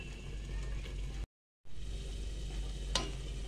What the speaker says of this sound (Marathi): मसाले आपले चांगला तेल उतरेपर्यंत मसाला आपला फ्राय होऊन द्यायचा।